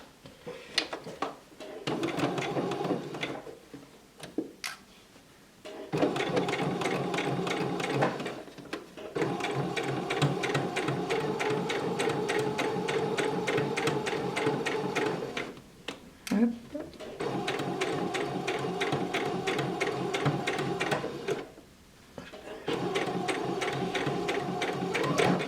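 A sewing machine stitches a seam on a fabric pouch, running in long steady mechanical bursts separated by short pauses, with a person speaking French softly in the gaps.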